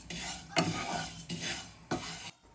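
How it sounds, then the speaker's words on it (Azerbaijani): Dry vermicelli being fried and stirred in a pan, giving a steady scraping, rustling sizzle broken by three sharper scrapes of the spatula, close and moderately loud with no voices. "mən tez vermişili qovururam"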